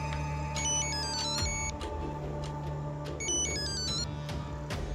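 A phone ringing repeatedly in a debt-ridden shopkeeper's home, bright electronic ringtone melody in regular bursts, loud and close, with no talking.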